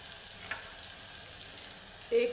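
Spices with bay leaves, green cardamom and garam masala sautéing in a pan, a soft steady sizzle with a brief clink near the end, no speech.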